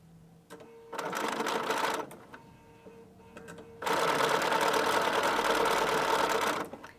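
A sewing machine whirs in two bursts of rapid stitching while piecing a quilt, a short run then a longer one, separated by a quiet pause.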